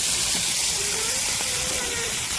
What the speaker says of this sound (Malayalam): ഇതാണ് കറക്റ്റ് തവ ഫ്രൈ